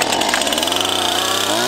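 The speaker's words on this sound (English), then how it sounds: "mostly of this chainsaw working" A Stihl MS 171 chainsaw runs close by at high revs, a loud, buzzing two-stroke whine held steady for about two seconds with a slight change in pitch near the end.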